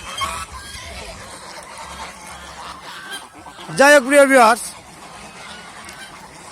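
A loud goose honks in a short burst of repeated calls midway, while someone talks before and after.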